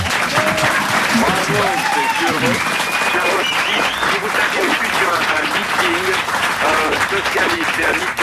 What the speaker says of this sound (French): C'est une salve d'applaudissements spontanés de la part du public.